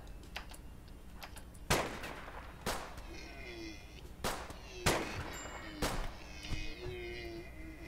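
Several sharp gunshots ring out at irregular intervals as a colonist kills a doe in the RimWorld colony game, each a crisp crack over a quiet background with faint game tones and an animal cry between.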